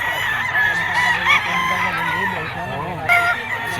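Golden Boy Sweater gamefowl rooster at a crowded bird market in Bocaue, Bulacan, crowing and clucking at close range, with several loud calls among background chatter and other birds.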